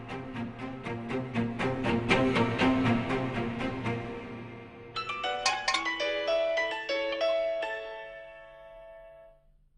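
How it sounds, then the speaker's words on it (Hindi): A phone rings on an outgoing call, a repeating electronic ringback tone in steady pulses that shifts to a different melodic pattern partway through, clear and alone with no talking. "ऑफिस जाने से पहले एमन आंटी को कॉल कर लेती हूँ"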